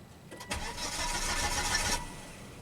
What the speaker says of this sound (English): let's try the cranking test again